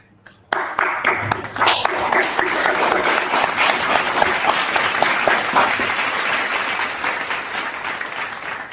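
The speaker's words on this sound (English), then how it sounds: "please, a round of applause for the executive producer" Applause from the audience at a live music video premiere event swells suddenly after a quiet moment and holds as a loud, dense wash of clapping that fades slightly toward the end.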